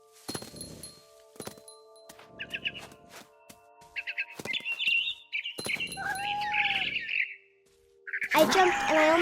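In the video game What Remains of Edith Finch, a barn swallow gives repeated bursts of quick, high chirps between soft thumps and rustling game sounds, then a louder flurry of bird calls near the end.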